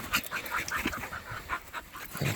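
A dog pants rapidly outdoors on a shed-antler hunt, quick breathy huffs close by with a faint whimper, no talking.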